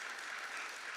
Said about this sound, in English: I think she deserves an extra round of applause